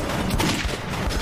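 Gunfire in the video game Metro 2033, a short dense burst of loud overlapping shots and thumps filling just over a second, with no talking.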